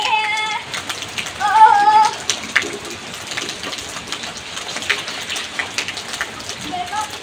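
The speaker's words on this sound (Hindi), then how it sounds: "अरे देखिए बारिश कितना तेज हो रहा है" Steady rain pattering hard on a surface, a dense hiss throughout, with a few brief tonal squeaks and faint voices in the background.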